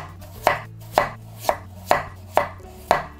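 Potato being chopped with a knife on a board, six crisp, evenly spaced cuts about half a second apart, close and clear with no talk.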